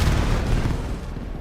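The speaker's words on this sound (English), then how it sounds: "I did not mean to throw that grenade." A grenade goes off in a video game shooter, a loud, close boom with rumbling gunfire-like crackle that trails off over about a second.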